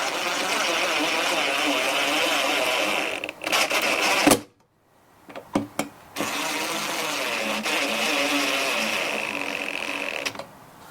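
A power driver whirs in bursts while tightening screws on a Stihl BR450 blower during a carburetor and coil install, broken by a short silence and a few sharp clicks, then running again.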